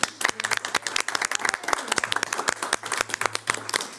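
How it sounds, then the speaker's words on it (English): At a school board business meeting, the room applauds Ms. Malou with a modest, distinctly separate clapping, a few dozen hands striking in a quick, uneven patter over several seconds. "So I'd love to give Ms. Malou a round of applause."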